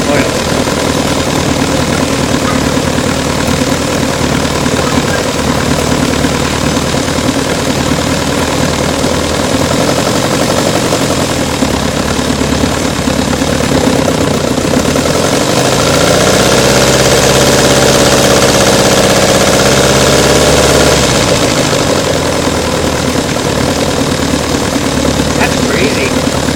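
A model Holt gas engine running on straight gasoline with a little oil chugs steadily and loudly up close, a continuous mechanical rattle throughout with a brief tonal whine midway, while people talk over it.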